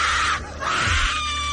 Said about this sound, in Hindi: उसके मुंह से एक तेज चीख निकल गई।